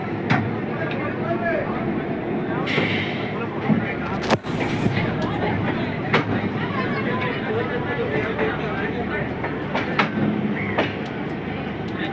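The Ranchi Intercity train pulls out of Howrah Junction station with a continuous rolling rumble and intermittent wheel clacks and knocks, heard close on the platform, with voices in the background.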